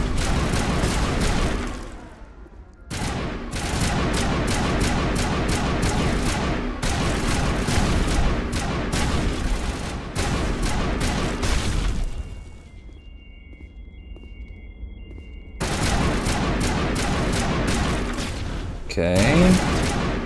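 Gunfire in the Mass Effect video game, dense sustained bursts of shooting in long stretches broken by short quiet pauses, loud and close, with a player talking intermittently.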